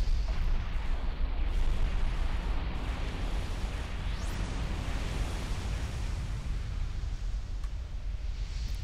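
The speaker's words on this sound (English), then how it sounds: "Yes, we managed to make it explode from the inside." An asteroid blows apart from the inside in a Dynasty Warriors Gundam cutscene: a loud, sustained rumbling roar with dense low-end noise that holds steady throughout, with no voices.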